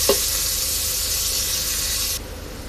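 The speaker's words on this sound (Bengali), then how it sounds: "পেঁয়াজটাকে একটু ভাজা ভাজা করে নিব" Chopped onions frying in hot oil in a pot, a steady bright sizzle that runs for about two seconds and then abruptly drops to a quieter simmer.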